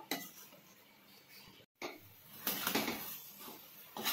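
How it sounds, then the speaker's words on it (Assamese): Spatula stirring fried chicken through butter chicken gravy in a pan, soft metallic scrapes and clinks arriving in loose bursts, fairly quiet and close, with one brief dropout partway through. "এতিয়া এইখিনি চিকেনখিনি দি পেলাই এতিয়া ধুনীয়াকৈ লৰাই আছোঁ।"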